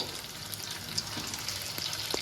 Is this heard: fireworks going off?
no